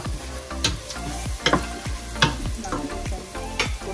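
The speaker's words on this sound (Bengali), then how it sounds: "আমরা এখানে ইলিশ মাছ ভাজি করবো" Hilsa fish frying in hot oil in a Bangladeshi home kitchen, a steady close sizzle with repeated scraping stirs and clinks of a utensil against the pan.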